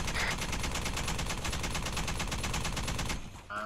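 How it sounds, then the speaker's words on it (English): Rapid automatic gunfire in Arma 3 rattles in a dense, continuous burst of close, loud shots for about three seconds, then breaks off abruptly. "Start firing back."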